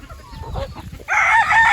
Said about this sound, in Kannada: ಒಂದು ಕೆಂದು ಹುಂಜ ಐತೆ ನೋಡಿ